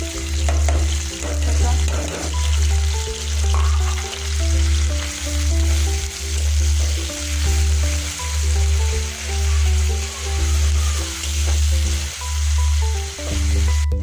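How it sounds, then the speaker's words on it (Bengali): Chopped onion and green chilli sizzling in hot oil, a steady, loud frying hiss with a rhythmic low pulsing hum beneath it, close and unbroken, with no talking. "তেলটা গরম হয়ে গেলে পেঁয়াজ কুচিটা এখন দিয়ে দিব, সাথে কাঁচা মরিচ"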